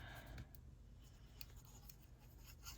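Scissors trimming paper while decorating a trifold journal, heard as a few faint, quick snipping and rustling sounds against a quiet room hiss.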